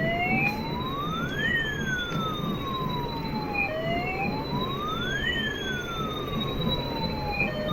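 An ambulance siren wails in long rising and falling sweeps, repeating steadily and loudly for several cycles over a low background rumble, with no talking.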